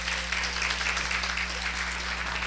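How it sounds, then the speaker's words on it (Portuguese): Lecture audience applauding at a Portuguese-language talk on orthomolecular aesthetics and electro-aesthetics, a steady dense wash of clapping lasting a couple of seconds over a constant low electrical hum. "uma salva de palmas para o abraço de vocês"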